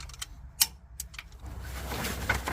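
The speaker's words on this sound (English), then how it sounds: "we're gonna start torquing down 100 foot-pound" Torque wrench tightening Cummins N14 cylinder head bolts, giving a few sharp, crisp clicks close by, with faint ratcheting and handling noise between them.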